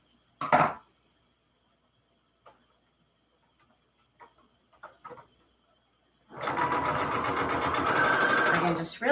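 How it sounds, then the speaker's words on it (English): A sewing machine stitches half-inch paper strips together, a steady loud mechanical whirr running through the last few seconds after scattered quiet handling clicks and a brief burst of noise at the start. "I just sewed 1/2-inch strips together."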